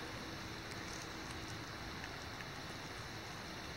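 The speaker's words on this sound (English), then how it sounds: "We weren't really expecting the rain today," Rain falling on Burr Oak Lake, a steady, dense hiss of drops spreading evenly across the water, constant and close with no voices or other sounds.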